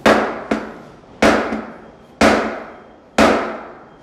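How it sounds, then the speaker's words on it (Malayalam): A hammer strikes an office chair's wheel base five times in a slow, uneven rhythm, each blow a sharp, loud metallic bang with a ringing decay. "ഇതേപോലെ ഓരോ സൈഡും ഹാമർ ചെയ്യുക."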